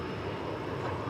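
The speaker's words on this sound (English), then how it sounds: "There you see American Flight 1523. It's going to Denver, City by the Bay, 737-800." An American Airlines Boeing 737-800 gives off a brief, steady jet engine roar at moderate distance, alone and with no talking.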